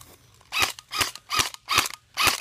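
An airsoft gun fired on semi-automatic, five sharp snapping shots at a steady, fairly quick pace, close and loud, with quiet pauses between them.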